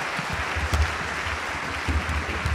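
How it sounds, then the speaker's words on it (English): A congregation at a priestly ordination applauding a newly ordained priest, a dense, steady round of clapping from many hands in a large hall, with faint low thumps underneath. "Can we give our new priest a round of applause,"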